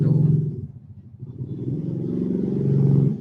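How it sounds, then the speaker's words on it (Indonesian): A motorcycle passes close by, a steady low engine rumble that dips and then swells louder toward the end, heard alone without talk. "aduh berisik motor lagi"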